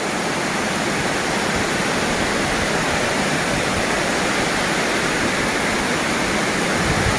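Camly waterfall in Dalat, Vietnam, a small 10–15 foot fall, pours in a steady, loud, unbroken roar of rushing water with no voices.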